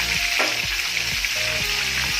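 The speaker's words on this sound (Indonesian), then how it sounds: "ada goreng udang nih, minyaknya agak ngawur" Shrimp frying in hot, spattering oil, a loud steady sizzle with crackling pops and occasional stirring scrapes throughout, no voices.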